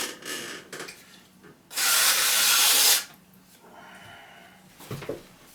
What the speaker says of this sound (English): just going to put my stick in underneath, wet trim the base